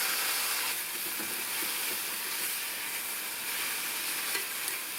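Two finely chopped medium tomatoes fry in a pan for a mushroom gravy, giving off a steady, close sizzle and hiss with light stirring over it and no talk.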